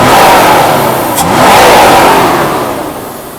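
A 1980s-era Mercedes-Benz W126 300SEL, its engine freshly repaired and warmed up after a long run on a hot day, revs loudly and close, swelling and then slowly falling back toward idle, alone without speech.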